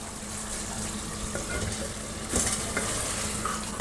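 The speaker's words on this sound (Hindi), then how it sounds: "अब मैं थोड़ी और भुनाई करूँगी।" Beef pieces fry in a pot with black pepper and green chilli for a namkeen gosht dish, giving a steady close sizzle with occasional scraping stir clicks and no talking.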